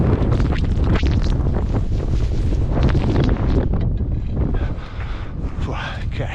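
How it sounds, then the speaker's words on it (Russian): A light, cold wind on a mountain ridge in the Rocky Mountains rumbles and buffets the microphone in a continuous low roar that eases slightly toward the end. "Нету сильного ветра. Так, небольшой холодненький поддувает, но не страшно."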